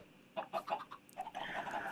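Several short, quiet clucks and squawks from chickens in a coop in the Minecraft video game, coming in a quick burst and then a brief run of calls.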